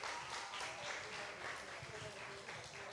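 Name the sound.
church congregation applause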